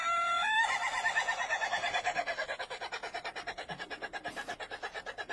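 A rooster crows in one long drawn-out call, loud and close, its voice breaking into a steady rapid pulsing rattle toward the end.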